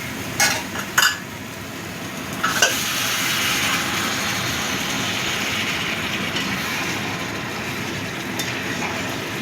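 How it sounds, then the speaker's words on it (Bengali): Hot water is poured into a pot of elephant foot yam curry, with a couple of sharp utensil clinks first and then a steady rushing hiss that continues to the end. "এবার দিয়ে দিচ্ছি গরম জল।"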